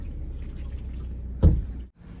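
Water poured over a car to rinse off salt water spray, a steady low splashing wash with one brief louder gush before cutting off.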